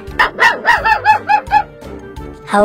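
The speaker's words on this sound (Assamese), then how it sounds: "আমাক দেখে ভুকি আছে" A dog barks close and loud in a quick run of about seven sharp barks, pauses briefly, then lets out another bark.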